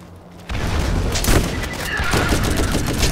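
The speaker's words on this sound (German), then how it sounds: "Ich schieße mit einem Revolver auf den Kopf, das ist ziemlich effektiv." Rapid revolver gunfire in the shooter game Borderlands, a loud, dense burst of overlapping shots and booms that starts abruptly after a brief quiet moment and keeps going.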